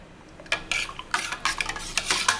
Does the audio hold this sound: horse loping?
no